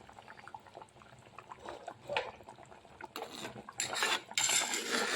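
A spoon stirs fish curry in a metal pot, making a steady scrape and clink of utensil on the pot. The scraping grows louder and denser toward the end, with soft liquid sloshing underneath and no talking.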